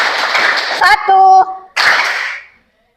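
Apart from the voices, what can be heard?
class clapping in rhythm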